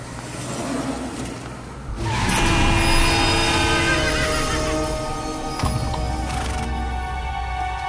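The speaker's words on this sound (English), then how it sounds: "why do I hear horses?" Horses neigh and whinny loudly over a busy, layered game soundscape with engine-like roars and clattering hooves, continuous and close.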